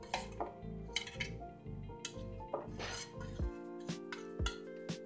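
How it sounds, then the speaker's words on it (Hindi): Chicken marinade being mixed in a bowl with spices like cumin powder, garam masala and salt, giving quiet, close clinks and taps of a spoon against the bowl in an irregular rhythm over a low hum. "अभी इसे अच्छी तरह से मिला लेंगे।"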